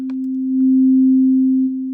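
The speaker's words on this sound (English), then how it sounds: "we're just going to get the exact same sine wave sound" A pure, steady sine tone from a Native Instruments FM8 synthesizer, made by combining two identical operators, holds one low-mid pitch for about two seconds, swelling a little louder in the middle.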